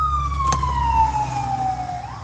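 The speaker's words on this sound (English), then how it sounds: "It's ambulance." An ambulance siren wails outside in a single long, falling tone that sweeps down and then starts to rise again, over a low engine rumble, moderately loud and steady.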